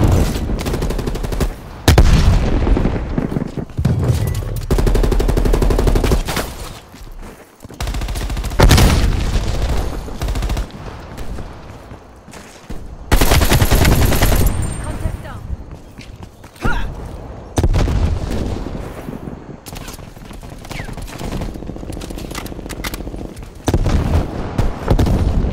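Gunfire and explosions in the Call of Duty Cold War beta, with loud bursts of automatic fire, heavy booms and scattered footsteps filling the scene in dense, repeated waves.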